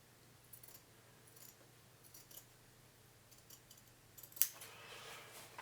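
Scissors snip through denim fabric while a jeans pocket is cut out: faint, close clicks and cuts spaced out over quiet room tone, ending in one sharper snip and rustle, with no talking.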